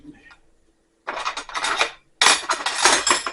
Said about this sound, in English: And then I got to get a tablespoon to stir this with.